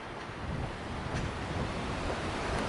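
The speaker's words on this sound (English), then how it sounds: "lovely little river" Steady rushing water noise, like a river flowing, broadband and continuous, with some wind buffeting the microphone and no voices.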